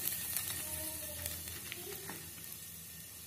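A bay leaf drops into hot oil at the start of a spicy chicken fry, giving a close, steady crackling sizzle with no one talking.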